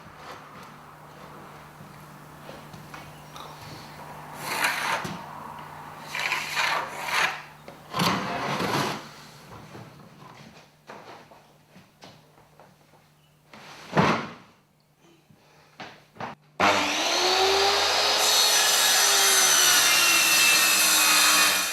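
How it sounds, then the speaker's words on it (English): An installer cuts the edge of a floor board during floor installation, giving rasping, rubbing saw strokes in uneven bursts, followed by a sustained louder grinding cut near the end. "you saw the installer cutting the edge of this board"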